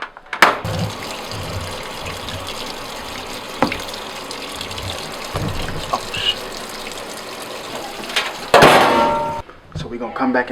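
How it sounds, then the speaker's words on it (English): Water rushes steadily as a washing machine fills, a continuous hiss and trickle with a few clunks and a louder gush near the end. "I'm gonna put this in the washing machine and dry it"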